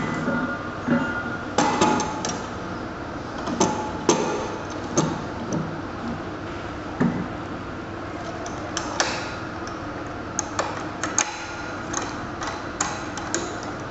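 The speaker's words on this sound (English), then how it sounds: "let's mount this cylinder back onto the proper, that is oxygen hanger yoke assembly." Oxygen cylinder being fitted onto a medical oxygen hanger yoke with a pin index safety system, giving a run of sharp metallic clicks and knocks at irregular intervals, close by, with no voices.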